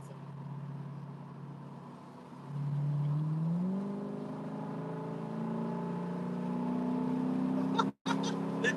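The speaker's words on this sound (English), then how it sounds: "They are literally doing a dyno run." A car engine on a dyno, revving and then climbing steadily in pitch through a sustained pull, loud and continuous with no talk over it.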